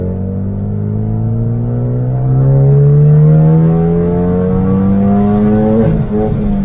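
A Hyundai Genesis Coupe accelerates hard from inside the cabin, the engine note climbing steadily and loudly through the revs for several seconds before a quick dip as a gear change hits near the end.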